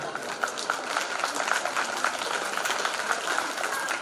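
Audience applause for performers at a school skit, a dense, steady wash of many hands clapping with crowd murmur and some voices mixed in throughout.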